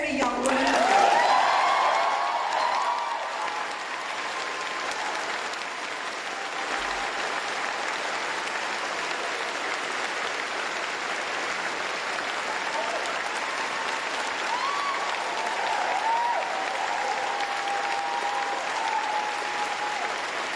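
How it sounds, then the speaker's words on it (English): Long, sustained applause from a crowd of civil servants at the Treasury fills the space at steady loudness, a dense wash of many hands with faint murmuring underneath, barely easing over about twenty seconds. "That was a very long round of applause from civil servants."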